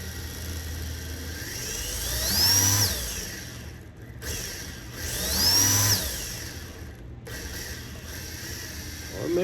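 An RC drift car fitted with a new ESC, run at half throttle, produces a smooth electric motor whine that rises and falls in two distinct swells. A faint mechanical hum continues between them, with no voices.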